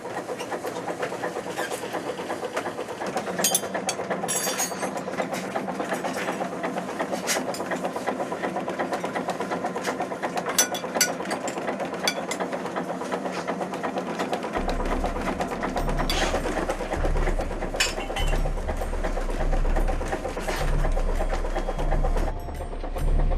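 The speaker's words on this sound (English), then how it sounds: "The tireless diesel engine propels the ship through the icy water at 6 knots" A sailing ship's diesel engine drones in a steady, continuous hum with no voices, pushing through icy Atlantic water at 6 knots, its low rumble growing heavier partway through.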